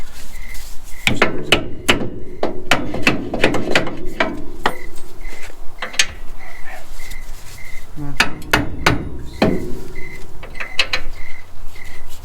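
Sharp metal hammer blows ring out while a front drop kit is fitted to a 1983 GMC Squarebody C10 pickup, coming in irregular bursts of close, loud strikes with pauses between.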